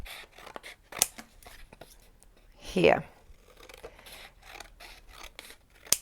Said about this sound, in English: with a pair of scissors I'm going to cut